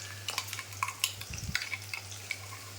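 Onions sizzle and fry in a wok as garlic-ginger paste cooks with them, with close stirring clatter and spatula scrapes over a steady hiss.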